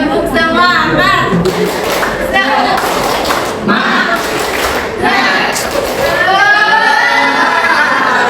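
A classroom group claps in rhythm, with bursts of synchronized claps and thumps mixed with shouting voices, loud and close throughout.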